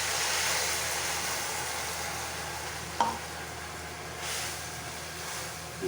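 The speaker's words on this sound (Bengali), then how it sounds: "আমি এই যে জল আর সরষে বাটা একসাথে যেটা করে রেখেছিলাম সেটা আমি তেলের উপর দিয়ে" Mustard paste thinned with water hitting hot oil with black cumin, a steady broad sizzle that settles into a softer bubbling hiss, with a brief clink of a utensil midway.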